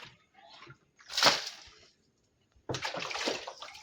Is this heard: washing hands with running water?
yes